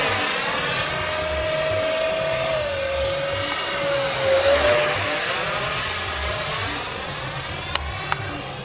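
An FMS Rafale 64mm electric ducted-fan RC jet screams past at full speed, a loud sustained high-pitched whine with a shifting pitch as it sweeps close by, alone without talk.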